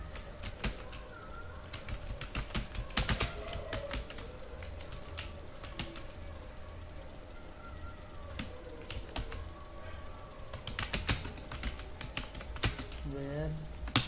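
Keys clacking on a computer keyboard while text is entered in Microsoft Word, irregular bursts of crisp close taps with pauses between, and a voice murmuring faintly in the background.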